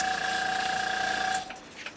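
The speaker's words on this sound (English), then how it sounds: "Thank you, Mr. Compressor." An airbrush air compressor runs steadily with a constant mechanical hum and high whine, then cuts off abruptly partway through, leaving quieter room noise.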